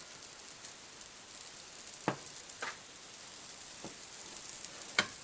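Waffle batter ladled onto a hot waffle iron gives a steady, faint sizzle, broken by a few short sharp crackles and pops.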